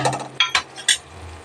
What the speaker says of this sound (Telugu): మూత పెట్టుకున్నా.